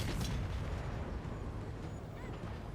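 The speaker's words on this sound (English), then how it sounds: "Cannons continue to take out chunks of the enemy cavalry." Cannons fire across a battlefield in Total War: Warhammer 3, a dense, continuous rumble of booming artillery with a sharp blast near the start, steady and loud throughout.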